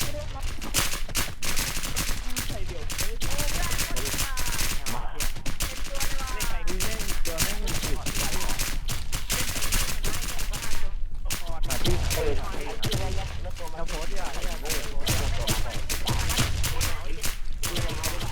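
Rapid, dense video-game gunfire rattles almost nonstop, loud and close, with bursts of automatic fire and a voice talking over the shooting.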